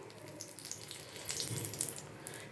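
Bay leaf and spices fry in hot oil, giving a faint, steady hiss and crackle throughout the short stretch with no talking.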